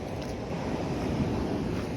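Choppy sea rolling in steadily along a shoreline during bass fishing with light lure gear, a continuous broad wash of surf with some wind buffeting the microphone, no voices.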